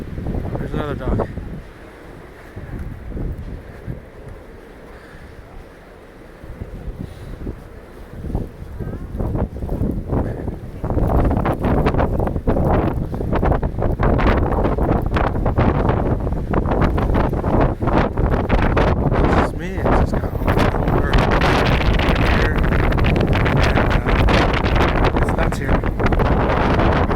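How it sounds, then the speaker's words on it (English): Strong wind on a cold day after a snow storm in Toronto, buffeting the microphone in a loud continuous roar that builds partway through and stays heavy to the end, with brief speech early on. "Super windy and it's cold."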